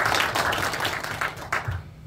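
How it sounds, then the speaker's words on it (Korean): Audience at a city council policy forum clapping, a brief, uneven patter of individual claps close by, thinning out within two seconds. "큰 박수 부탁드리겠습니다"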